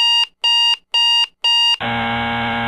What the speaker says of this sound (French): Vous pouvez utiliser un réveil programmé à une heure précise pour vous réveiller.